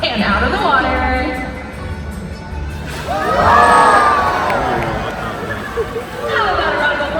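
Audience at a dolphin show cheering and shouting in swelling bursts, with excited voices, children's calls and crowd hubbub rising and falling.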